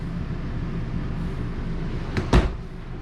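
Steady background hum, then a short smooth slide ending in a soft thud as a full-extension drawer on ball-bearing guides glides shut in a Sierra 401FLX park trailer.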